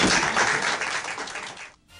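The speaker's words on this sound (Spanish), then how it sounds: "Un aplauso para la niña" Applause for a young girl receiving a prize at a children's award ceremony, a full burst of clapping that thins and stops abruptly near the end.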